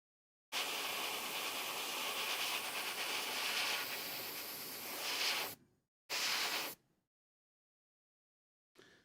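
An airbrush sprays primer as broadband hissing air, running steadily for about five seconds, cutting out, then a short second burst, followed by silence and a faint final puff, sputtering unevenly.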